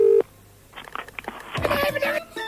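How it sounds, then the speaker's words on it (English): A telephone number is dialled on a 1990s radio show, with a short tone at the start and then a quick run of keypad clicks and beeps. Someone talks over part of it. "Oh, I'm not even finished dialing yet."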